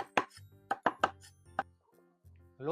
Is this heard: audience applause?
no